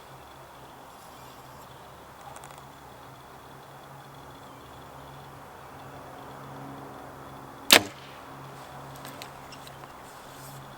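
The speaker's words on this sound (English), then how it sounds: "let's see how this arrow shoots through paper" A compound bow with Bowtech Deadlock cams fires an arrow through paper, a single sharp loud snap and thwack standing out in an otherwise quiet outdoor scene, followed by faint rustling.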